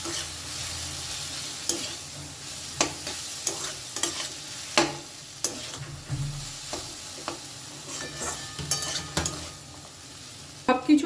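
Boiled Maggi noodles are stirred in a pan for a children's school tiffin, with a steady sizzle under repeated scraping strokes of the spatula, close and moderately loud, and no voices.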